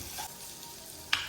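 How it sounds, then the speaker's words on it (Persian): Chicken pieces fry in a pot with tomato paste, giving a soft, close sizzle with a quick stir and a sharp clink of a utensil near the end. "حالا مرغا رو توش تف بدید تا یه ذره مرغا هم سرخ بشن."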